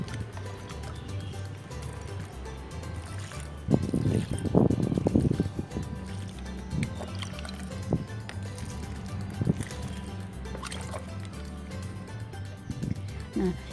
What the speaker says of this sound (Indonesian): kemudian kita siram. Disiram yang kenyang ya